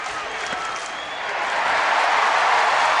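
A baseball stadium crowd applauds and cheers as fans rise to their feet, a broad, steady roar that swells louder over a few seconds.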